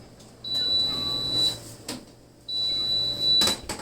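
A Kalorik Maxx air fryer oven being opened to take out chicken nuggets: two long electronic beeps with soft clicks and clunks of the door and tray between them, close and fairly quiet.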